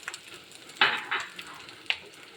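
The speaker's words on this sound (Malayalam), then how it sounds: "പച്ചക്കറി വേകുമ്പോഴേക്ക് കുറച്ച് അരപ്പിനുള്ള തേങ്ങ വറുത്തെടുക്കാം. കുറച്ച് വെളിച്ചെണ്ണ ഒഴിച്ചിട്ടുണ്ട് ഇതിൽ." Grated coconut frying in coconut oil in a pan while cooking a Kerala koottu curry, with short bursts of sizzling and stirring scrapes, close and fairly quiet, no speech.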